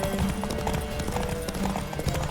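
A horse's hooves galloping in The Witcher 3: Wild Hunt, a fast steady clip-clop over a dense, loud game background, with no talking.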